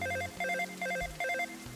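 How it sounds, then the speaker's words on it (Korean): Smartphone ringing with an incoming LINE call: a quiet, bright melodic ringtone repeating a short warbling phrase about four times, heard alone without talk. "내 휴대폰이 울렸다"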